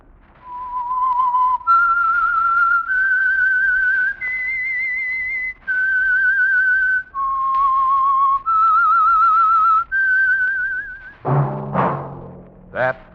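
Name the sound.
whistle signal of radio program The Whistler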